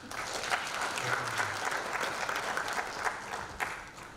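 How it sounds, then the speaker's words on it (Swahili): An audience at a national human rights dialogue in a hall gives steady, moderately faint applause to a lawyer, with continuous even clapping throughout and no talk. "Naomba nimpigie makofi tena."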